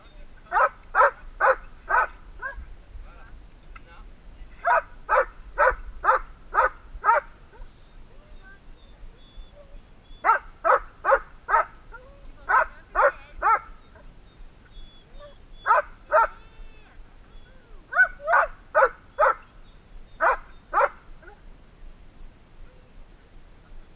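A big dog barks in repeated bursts of several quick woofs separated by short pauses, loud and close, with a faint low background hum.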